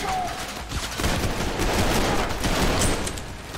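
Rapid, continuous gunfire from the first-person shooter Trepang2, dense and loud, with shots packed closely together and no pauses.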